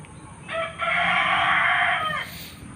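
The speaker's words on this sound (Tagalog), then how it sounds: "Ang dami ding mga manok dyan eh." A rooster crows once, loud and fairly close, a drawn-out call lasting under two seconds against a quiet outdoor background.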